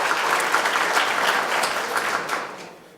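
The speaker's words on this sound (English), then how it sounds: "So a round of applause" A lecture-hall audience at a medical imaging talk claps together in dense, steady applause that starts at full strength and tapers off toward the end.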